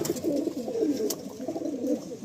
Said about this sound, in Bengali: দেখুন এটা হচ্ছে অরিজিনাল রোটেলো পায়রা।